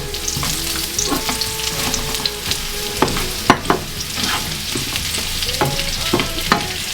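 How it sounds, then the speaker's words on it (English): Onions added to carrots frying in a pan for sweet and sour pork, hissing in a steady sizzle while a utensil scrapes and taps the pan in irregular strokes. "we're going to fry these in order in which they cook. Right, next will be our onions"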